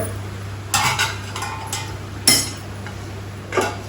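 A spoon stirring mutton curry in a metal pot, with a few separate scraping clinks spaced over a few seconds above a low steady hum, close and moderately quiet.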